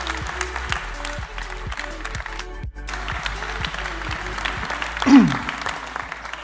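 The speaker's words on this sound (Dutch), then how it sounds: "Mag ik een heel hartelijk applaus voor Laurens van den Akker." Audience applause at a design masterclass welcoming Laurens van den Acker, a steady dense clapping from a crowd with a brief louder swell near the end.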